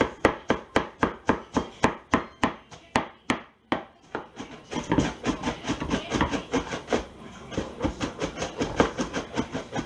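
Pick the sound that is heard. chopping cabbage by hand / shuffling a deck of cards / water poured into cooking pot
chopping cabbage by hand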